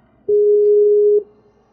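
A telephone line gives one steady electronic tone lasting about a second, clean and loud, then cuts off abruptly.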